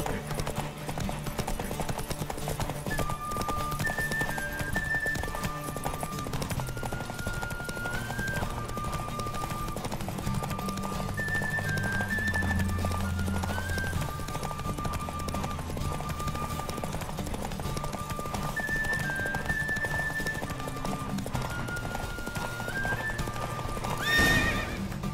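Horse hooves galloping steadily through a race in The Witcher 3, with a whinny and clip-clop rhythm over game music, continuous and fairly loud throughout.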